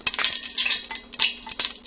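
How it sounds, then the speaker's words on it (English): Onions sizzle and crackle in olive oil heated over a medium flame, broken by a few brief bursts of stirring or clinking over about two seconds. "I've got the olive oil heating up over a medium flame. And I'm going to add the onions."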